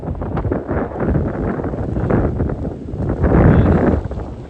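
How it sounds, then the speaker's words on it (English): Strong gusts of wind buffet the microphone outdoors, a loud, roaring rush that swells and eases in waves, building to a heavier gust toward the end. "So there you go, there's the wind."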